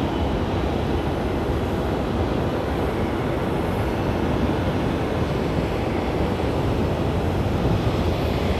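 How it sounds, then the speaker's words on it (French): An airplane's broad steady roar, a continuous rumbling wash of engine noise heard alone with no talk. "Ça, c'est notre avion."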